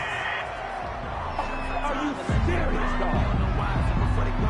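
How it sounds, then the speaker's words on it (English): A home crowd in the Madden NFL 21 football video game cheers and roars after a penalty call, a steady swell of distant stadium noise with commentary voices over it. "This home crowd, they're happy with that call."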